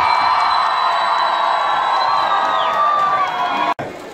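A large crowd at Sheremetyevo airport applauds and cheers arriving Russian Olympic athletes. The dense, loud roar of clapping and cheering holds steady and drops out for a moment near the end.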